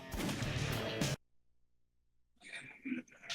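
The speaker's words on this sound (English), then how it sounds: "the cursor selection sound is just a gunshot" A loud, sharp gunshot plays as the cursor selection sound in the video game Shadow the Hedgehog. It opens the clip with a brief blast, followed by near silence and then a person talking.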